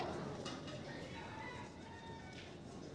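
Pigeons coo softly in a loft of local desi birds. Low murmuring calls run under a steady background hum, faint and somewhat distant.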